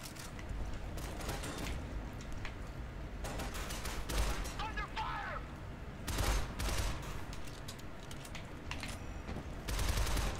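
Video game gunfire with sustained, dense automatic bursts and scattered shots, loud throughout and swelling in several peaks, with talk mixed in.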